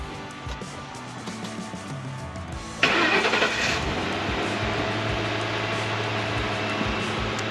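A 1964 Ford F100 truck fitted with a 5.4 engine cranks briefly and fires up, then settles into a steady, loud idle that continues close by, with no speech over it.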